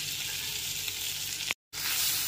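Ginger paste sautés in oil over a low gas flame for paneer butter masala, producing a continuous bright sizzle that briefly cuts out for a moment before resuming.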